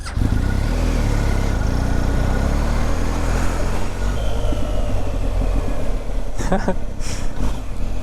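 A new 2019 BMW R1250GS motorcycle engine runs with a loud, steady, close rumble and wind noise, and a few sharp pops break through near the end.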